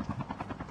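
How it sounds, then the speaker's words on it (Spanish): Helicopter flying in the mobile shooter game Call of Duty Mobile, a steady rotor drone with a soft rhythmic chop that stays fairly even in level through the brief moment, with no talk over it. "Voy a destruir el helicóptero para que no se cuente."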